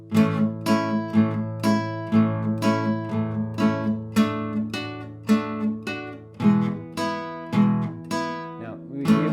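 An acoustic guitar strums chords in a steady rhythm, each upstroke letting the chord ring out bright and full between the strokes, with no voice.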